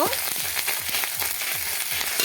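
Garlic and ginger frying in hot oil, a loud steady sizzle with spatula scrapes sweeping through at a regular rhythm, close up and with no talk.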